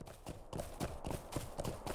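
A fast horse galloping in the video game LOTRO (Lord of the Rings Online), hoofbeats in a quick even rhythm of rapid clip-clop strikes, moderately soft and steady with no speech.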